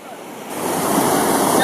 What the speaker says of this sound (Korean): 오늘따라 파도가 셉니다.